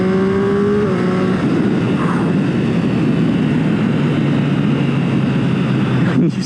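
A 2021 Triumph Street Triple R motorcycle in sport mode, its engine note rising briefly and then settling into a loud, steady drone with heavy wind rush, heard close from the rider's position.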